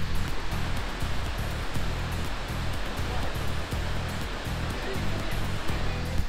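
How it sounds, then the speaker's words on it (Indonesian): Steady, full-bodied rush of the Tumpak Sewu waterfall, a continuous roar close by with no pauses or voices. "1000 sungai yang keluar dari atas untuk kemudian turun menjadi sebuah air terjun seperti ini"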